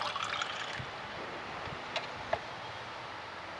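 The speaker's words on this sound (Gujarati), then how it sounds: "આવી રીતે પાણી નાખવાનું" Water is poured into a glass of seeds, a light trickling pour at first that settles into quiet, with a couple of small clinks near the end and no voices.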